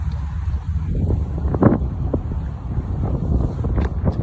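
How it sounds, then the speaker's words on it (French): Steady wind roars across the microphone, a broad low rumble with gusting texture, with faint water and boat noise beneath it and no talking. "Il y a du vent, beaucoup de vent."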